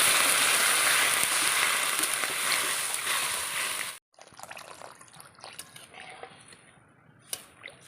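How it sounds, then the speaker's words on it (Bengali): Water pours steadily and loudly into a pan of cooked Bengali egg curry masala for about four seconds, then stops, leaving a few soft drips and small splashes. "জল দিয়ে দিই।"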